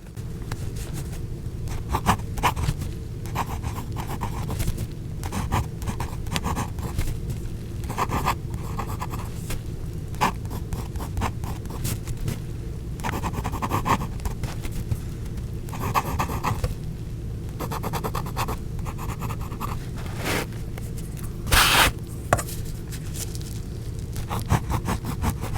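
A fountain pen nib glides across paper laying down green ink, producing soft repeated scratchy strokes in short bursts with small pauses between, close and quiet, with a faint low background hum.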